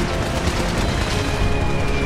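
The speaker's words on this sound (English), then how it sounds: "The nuclear explosion didn't actually kill them!" Dense battle din from Liberty Prime fighting synths in Fallout 4, with rapid gunfire layered over heavy rumbling explosions, loud and continuous without a break.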